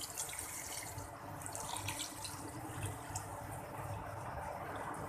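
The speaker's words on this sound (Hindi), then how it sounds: "तो अब मैं इसमें वाटर ऐड कर दूँगी।" Water poured into a pot of chicken haleem on the stove, a soft continuous splashing and running stream, fairly quiet and steady throughout with no talk.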